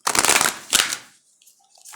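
Two quick, close bursts of cards being riffled and shuffled, the first longer than the second, followed by near silence.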